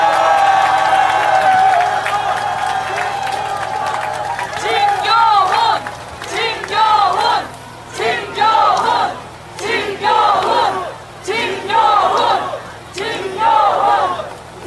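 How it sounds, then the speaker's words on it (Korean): A crowd at an election rally for a Seoul Gangseo district mayoral by-election applauds and cheers in repeated loud bursts, rhythmic roaring swells rising and falling after an opening stretch of amplified voice and music. "여러분 큰 박수와 함께 힘찬 함성 부탁드리겠습니다"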